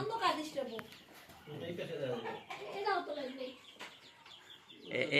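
Chickens cluck at a poultry farm at dusk, with soft clucks and calls mixed under a person talking nearby throughout.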